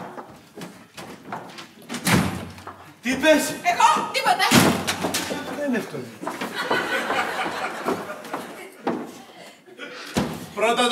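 Several doors slam and thump in a home bathroom area, sharp heavy knocks scattered among excited talking and chuckling voices.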